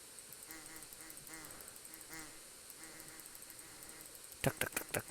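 Ducks in the game Liminal Shift quack in repeated nasal calls, faint and spaced at first, then a loud close cluster near the end, over a soft high insect-like drone.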